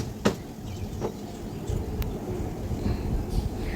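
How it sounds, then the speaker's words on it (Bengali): Heavy rain pours steadily outside a home, a dense continuous wash with a few sharper splashes and gusts, filling the space without any voices. "বৃষ্টি হচ্ছে তো প্রচুর জলের ছিটা এসছিল ছাট এসছিল"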